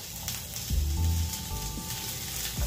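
Hot oil sizzles and crackles steadily as sayote is sautéed with onion and garlic in a pan, close up, with a few scraping stir knocks and no talking.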